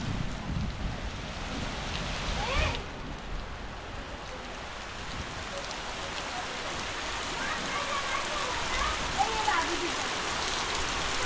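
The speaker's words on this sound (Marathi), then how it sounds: "पाऊस जोरदार सुरुवात झाली आहे" Steady, dense monsoon rain in the Konkan pours down with a constant wash of noise, broken briefly by a sharp burst near the start.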